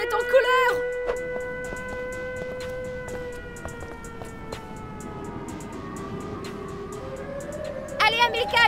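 Siren Head monster's wailing siren: a long sustained tone with steady harmonics that slowly slides downward across several seconds, with bursts of other voices or effects at the start and end.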